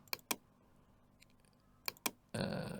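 Mouse clicks on a computer running MuseScore notation software: two quick double-clicks spaced well apart, crisp and quiet against a near-silent room, followed by a sudden burst of broadband noise at the end.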